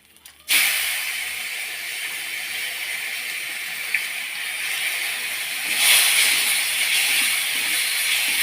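Prawns hiss loudly as they fry in a hot pan with oil, salt and ground spice, a steady broad sizzle starting abruptly and swelling near the end.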